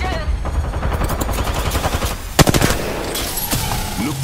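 Loud Apex Legends gunfire cracks in rapid bursts and sustained automatic volleys, with a sharper close shot partway through and game voice lines mixed in.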